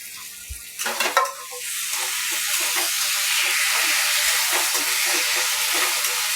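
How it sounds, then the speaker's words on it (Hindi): Masala and whole tomatoes frying on high flame in a pan for paneer bhurji sizzle loudly and steadily after a couple of clattering stirs, the hiss staying close and constant with light scraping throughout. "हाई फ्लेम पे इसे दोस्तों 2 से 3 मिनट तक भून लेंगे"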